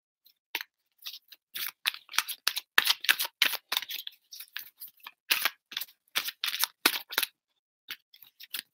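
Quick, dry riffles and snaps of large cards being shuffled in irregular bursts, crisp and close, with short gaps between flurries and no voices.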